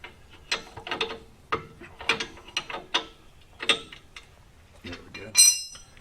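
A ratchet works a nut loose on a Ram 1500 truck's suspension, giving a series of close, sharp clicking bursts in uneven strokes, with a few metallic clinks between them.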